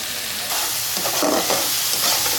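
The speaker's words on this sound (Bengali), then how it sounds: "এর মধ্যে টমেটো বাটাটা দিয়ে দিন কাশ্মীরি লঙ্কাটা দিয়ে দিন হলুদ আর নুন দিয়ে ভালো করে কষাই নিন" Tomato paste, Kashmiri chilli, turmeric and salt are sautéed together in a pan for a restaurant-style mixed vegetable curry, giving a loud, continuous sizzle broken by brief stirring scrapes.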